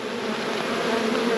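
Honeybees buzz as their hive box is opened and dug into without smoke, a dense, steady, fairly loud hum held close throughout.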